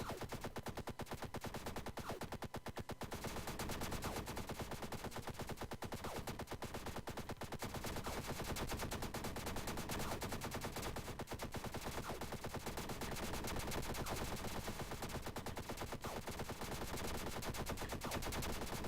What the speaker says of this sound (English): We are just going to lay in the shots